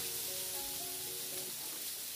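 Cabbage and carrot coleslaw fries in a pan, a quiet continuous sizzle with a few faint tonal hums running underneath and no talking.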